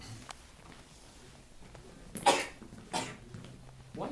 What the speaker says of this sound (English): why are you turning away and coughing?